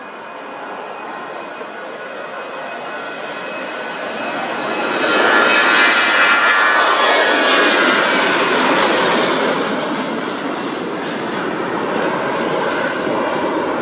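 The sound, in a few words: Ryanair aircraft engines at Leeds Bradford Airport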